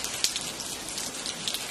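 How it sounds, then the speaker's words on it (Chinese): Steady rain pattering on a surface, a continuous close hiss of drops with a few sharper taps, heard alone without voices. "剪个头发都要下雨。"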